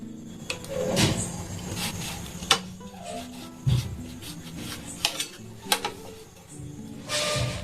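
A knife cuts through a block of soft homemade paneer made from one kilo of milk, giving scattered soft taps and rubbing scrapes against a board in a home kitchen, with a few sharper clicks and no talking.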